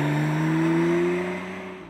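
Porsche 911 Carrera with a turbocharged flat-six, a smooth sustained engine drone with clear rising harmonic tones as the revs climb slightly, then fading and dropping away at the end, heard alone.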